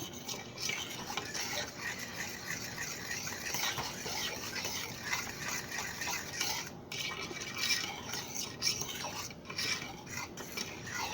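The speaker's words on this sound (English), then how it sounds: "And you just stir this all together until it looks like you've melted a pot of chocolate" A no-bake oatmeal cookie mixture is stirred in a pot with a utensil, producing continuous scraping and clinking against the metal for the whole stretch, steady and close with no talk.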